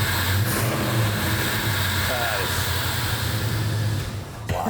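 A classic car's engine runs and revs, a steady, loud mid-range rumble that holds nearly unchanged before dropping slightly at the end, with people talking over it.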